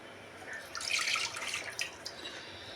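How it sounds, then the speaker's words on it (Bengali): Coconut water is poured into a wok on a gas stove, a faint, brief trickling splash of liquid in a quiet kitchen. "এবার এটার মধ্যে আমি ডাবের জলটা ঢেলে দেব।"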